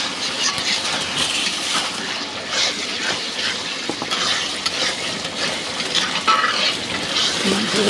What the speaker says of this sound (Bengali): মাংসগুলো কষিয়ে নেব।